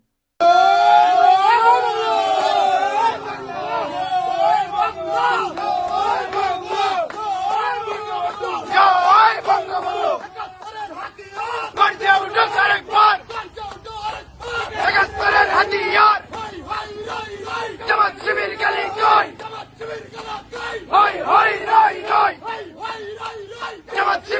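A crowd of political supporters, student activists, chant slogans in unison, loud rhythmic call-and-response bursts repeating steadily with shouting between the lines, close and energetic throughout.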